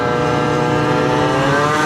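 A Yamaha Jog 70 scooter engine runs at speed on the road, a loud continuous buzzing drone with steady harmonics and slight rising pitch, close to the microphone and heard alone.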